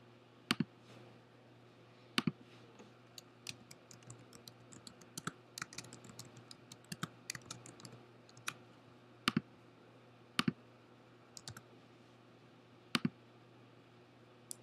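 Sparse, crisp clicks of a computer mouse and scattered keyboard taps while entering details on a website, quiet and close over a faint steady electrical hum, with no talking.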